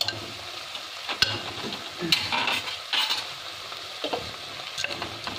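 A utensil stirs a beetroot curry cooked without oil in a pan, making irregular close scrapes and clinks over a soft steady sizzle, with no voices.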